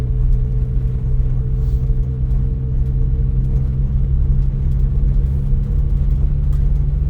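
Steady, droning engine hum and road rumble from a Subaru Sambar mini truck cruising in fifth gear at about quarter throttle on a road levelling out, heard from inside the cab without change in pitch.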